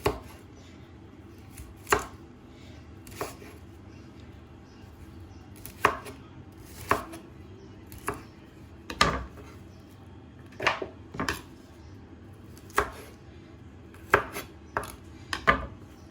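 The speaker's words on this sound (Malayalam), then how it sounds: "ഈ തണ്ട് നമുക്ക് മുറിച്ചിടാം കേട്ടോ, ചെറിയ പീസാക്കി മുറിച്ചിടാം." A knife chops broccoli stems into small pieces on a cutting board, sharp scattered thuds at irregular intervals, some in quick pairs, close and clear over faint background.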